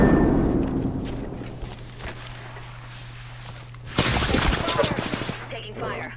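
Video game gunfire crackles in rapid bursts, with a heavy volley at the start and another dense burst later, mixed with footsteps and thuds under a constant low hum.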